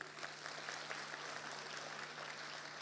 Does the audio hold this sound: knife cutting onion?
no